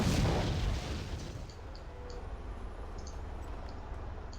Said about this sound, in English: The mortar pits taking some kills right here.